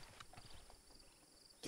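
Horse hooves clopping in a video game set around 1920, the horse of the White Wolf, a reddish animal with black hair, standing in the middle of a village; faint, quiet irregular steps over a low background.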